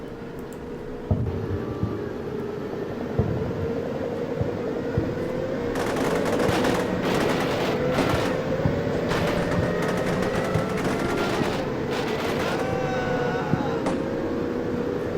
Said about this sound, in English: We got some nice return fire from this guy.